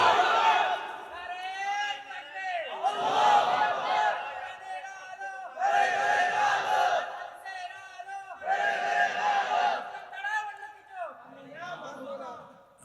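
A large crowd at an Islamic waz sermon gathering shouts "Allahu Akbar" in unison, answering a takbir call in four or five loud, rhythmic chanted bursts separated by brief pauses.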